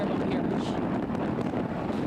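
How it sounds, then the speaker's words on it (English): Strong hurricane wind with gusts near 70 miles per hour blowing in Terrebonne Parish, a loud continuous roaring rush buffeting the microphone. "we're starting to see 70 miles per hour winds"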